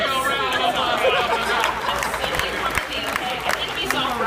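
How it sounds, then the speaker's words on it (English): An audience on the special effects stage at Universal Studios claps and calls out for a couple after a marriage proposal, steady dense applause with crowd chatter and voices mixed throughout. "Now let's give Vince and Candace a big old round of applause."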